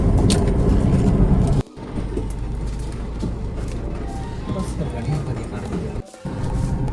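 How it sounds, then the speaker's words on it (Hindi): A car speeds past on a village road during a storm, its loud rushing roar mixed with wind buffeting while someone talks throughout. "पीछे से गाड़ी आई है हमारे को हॉर्न मार के और फास्ट जा रही है भाई"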